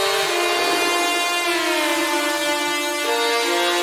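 A bright, buzzy synthesizer lead plays sustained notes with pitch bends, drenched in long reverb that smears each tone into the next.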